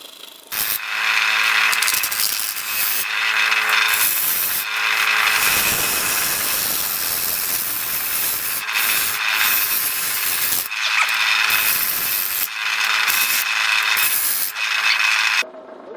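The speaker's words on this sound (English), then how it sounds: "So now I'm using my 3/8 inch gouge, and I've got it really sharp and it's working fairly well." A sharp 3/8 inch gouge cuts wood on a lathe with a loud, continuous rasping shear that breaks off and resumes in repeated passes over the steady whir of the spinning workpiece.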